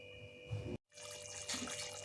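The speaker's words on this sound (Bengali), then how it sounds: "কি সুন্দর জল ঝরিয়ে নিয়েছি।" Cooked rice drains in a steady watery pour and trickle, a fairly loud, close rush that breaks off for a moment and then resumes.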